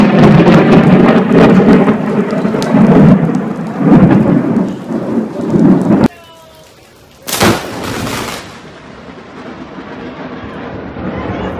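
Thunder from lightning strikes roars and rumbles heavily over pouring rain, then cuts briefly to near quiet before a sharp, loud crack of a close strike, followed by steady rain.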